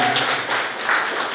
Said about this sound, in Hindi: एक बार गौरव शर्मा जी और उनकी पूरी टीम के लिए जोरदार तालियां बजाएं।